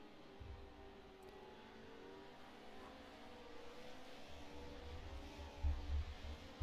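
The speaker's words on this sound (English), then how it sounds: "Two very fast race trucks starting out this qualifying session." Pro 4 race truck engines in a sim racing game at Crandon, a steady droning engine roar with low rumble building slightly toward the end, no talk.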